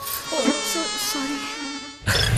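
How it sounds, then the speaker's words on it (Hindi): A mosquito buzzes with a thin, high, wavering whine close by for about two seconds, and a louder noise cuts in at the end. "मच्छर हमें कभी भी काट सकते हैं,"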